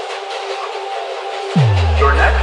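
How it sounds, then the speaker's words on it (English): A New York City subway train on the move: a steady broadband rumble and rattle, then partway through a loud electric motor whine rises in pitch and holds as the train picks up speed. "We are now taking the subway to go to Saks Avenue."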